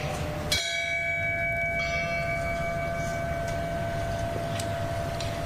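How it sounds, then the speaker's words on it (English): A large memorial bell strikes once at a remembrance for the Granite Mountain Hotshots killed in the Yarnell Hill Fire; its deep tone hangs and rings on, with a low steady hum underneath and no voices. "They also had several bell ringings"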